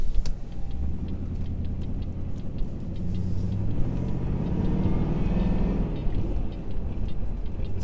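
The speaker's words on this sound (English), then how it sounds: "you could still hear the supercharger whine" Supercharged 400 hp V8 of a Jaguar S-Type R driving at low revs, a steady close rumble with a faint rising whine building midway, no speech.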